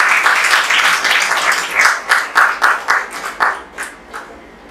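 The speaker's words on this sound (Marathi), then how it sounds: "नूतन चव्हाणसाठी जोरदार टाळ्या देऊया" An audience at a Savitribai women's empowerment event applauds for a performer, dense clapping that fades into separate, slowing claps toward the end.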